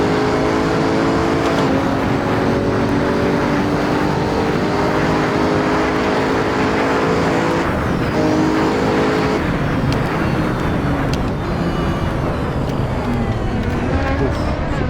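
A Bugatti Chiron races in the Assetto Corsa VR game, its engine roaring loud and sustained with rising and falling pitch as it shifts and accelerates toward top speed.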